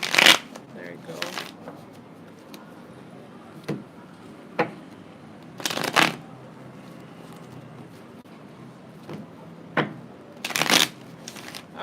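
Tarot cards are shuffled in several sharp, separate riffling bursts spread across a quiet room, close to the microphone, with faint speech-like murmurs in between.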